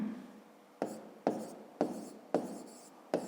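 A pen scratches out short strokes on paper during a fifth-grade math lesson, heard as five quick close scrapes about half a second apart, with no speech over them.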